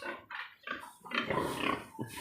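Several pigs on a Philippine pig farm grunt in short, rough bursts, close by and moderately loud, with a longer squealing grunt in the middle and no talk.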